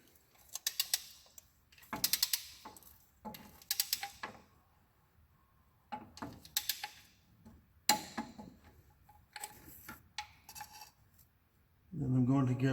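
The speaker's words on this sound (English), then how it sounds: "we're going to go ahead and torque the bolts" Torque wrench ratcheting in short clicking bursts while tightening oil filter adaptor bolts on a Ford F-150 5.4 3V truck, crisp and close with pauses between pulls, then a low rumble at the end.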